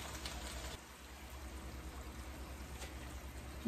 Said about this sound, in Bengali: পানি দিয়ে দিয়ে মশলাটা কষুক